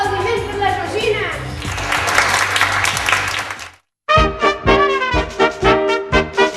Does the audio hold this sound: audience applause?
yes